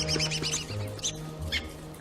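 Bird chirps from the video game Don't Starve ring out in quick bursts over a low, steady game hum.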